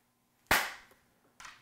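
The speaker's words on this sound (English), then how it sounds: "Got a little clap moment there." A single sharp hand clap rings out close and loud, decaying over about half a second, followed by a quieter second impact a moment later, in a quiet room with no talking.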